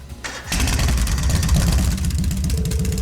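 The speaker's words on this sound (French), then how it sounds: "alors commencez à démarrer le moteur" In the Trails of Cold Steel video game, a car engine cranks briefly, catches with a loud surge and settles into a steady, throaty idle.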